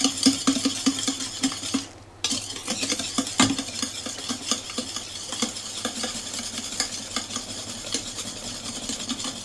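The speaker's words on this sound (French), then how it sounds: "On rajoute donc tranquillement notre chocolat fondu." Melted chocolate being mixed into a speculoos cake batter, steady wet stirring and spatula scraping around a bowl, close and continuous, with a brief pause partway through.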